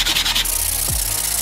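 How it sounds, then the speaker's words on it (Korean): A knife blade rubbed back and forth against sandpaper, a steady close raspy scraping that continues throughout without speech. "참고로 지금 사포질 시작한 지 얼마 안 됐어요."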